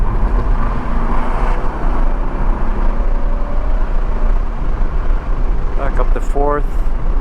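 A 1985 Porsche 928 S Euro engine droning loud and close from inside the car after a downshift to third gear, with steady road roar beneath and a brief squeak near the end.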